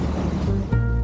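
Sea waves wash around the Lulu Lobster boat out on the water, a brief burst of surf and wind noise with a low engine-like hum underneath.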